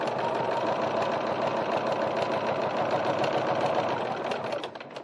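A sewing machine stitches a slip pocket for a bowler bag, running in one continuous fast mechanical whir up close before slowing and easing off at the very end.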